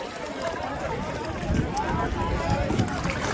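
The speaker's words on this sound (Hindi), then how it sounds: "इस टाइम पे बहुत तेज हवा चल रही है जिससे कि लहरें बहुत सारी उठ रही हैं" Strong wind roars over a river at a boat on the Triveni Sangam in Prayagraj, a steady buffeting rush with splashing water and choppy wave noise close to the microphone.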